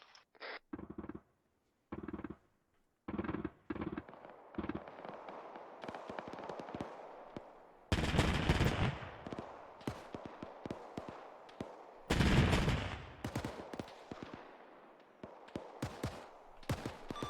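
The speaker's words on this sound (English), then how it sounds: "Oh no, they're using the AA gun." Anti-aircraft gun fire in a WWII shooter set during Operation Tobruk, rapid bursts of sharp cracking shots with pauses, then two long loud volleys, fairly close with scattered gunfire around.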